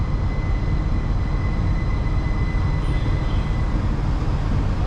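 A Class 387 electric train pulls into Didcot Parkway station with a loud, steady low rumble and rolling wheel noise, joined by a faint high whine.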